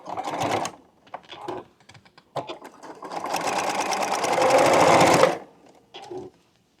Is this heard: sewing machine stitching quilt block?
yes